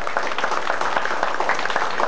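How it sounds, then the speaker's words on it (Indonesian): Thunderous applause for the leaders at a Selangor political rally, a dense, continuous wash of many hands clapping that stays loud and steady throughout. "Mari kita sama-sama bagi tepukan gemuruh kepada pemimpin-pemimpin kita seperti ini."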